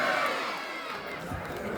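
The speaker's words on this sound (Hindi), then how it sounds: "ताली बजा के बोलिए परम पूज्य गुरु घासीदास बाबा की" At a Guru Ghasidas Jayanti celebration, a crowd answers a leader's call with a loud collective shout of praise. The roar is brief and swelling, with a murmur of voices and scattered sounds behind it.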